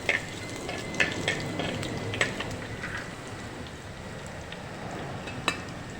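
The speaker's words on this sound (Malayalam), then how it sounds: "മുളകും എല്ലാം മൂത്ത് വന്നു ഇതിലേക്ക് നമുക്ക് ചെറിയ ഒരു കഷ്ണം ഇഞ്ചി അരിഞ്ഞത് ഇട്ട് കൊടുക്കാം" Chili and chopped ginger sizzle and crackle steadily in hot oil in a pan while ribbonfish curry is cooked, with occasional sharp pops over a constant frying hiss.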